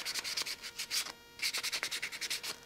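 Sandpaper roughs up a part of a foam Zeta Wing Z-84 flying-wing model kit in quick, close, rhythmic strokes, with a brief pause midway before the rubbing resumes.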